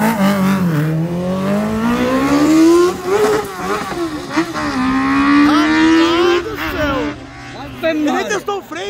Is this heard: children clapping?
no